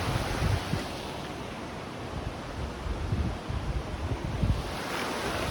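The Nolichucky River near Erwin, Tennessee flows with a steady broadband rush of water, loud and close, with wind buffeting the microphone.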